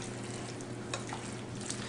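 Cream being stirred into a mixture in a pan, giving a steady soft sizzle with faint swishing and a few light scrapes, continuous and close.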